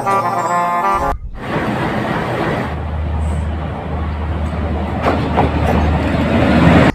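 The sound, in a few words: freight train at Benapole railway station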